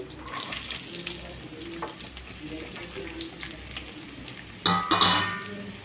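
Tempering oil sizzles steadily in a pan, with a sharper burst of frying near the end as chopped carrots are added.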